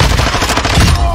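Rapid automatic gunfire in an online shooter video game, loud and dense bursts filling the whole short moment.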